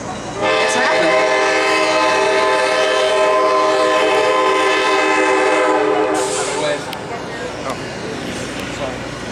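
An Amtrak train horn blasts long and loud, sustained for several seconds, then fades into rumbling rail noise, heard from a Chicago river tour boat with voices in the background.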